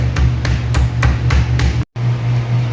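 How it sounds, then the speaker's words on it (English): A kitchen hammer pounds chicken breasts flat on a board, about eight loud, evenly spaced thuds close up, with one brief break before the last blow. "we are going to use a kitchen hammer"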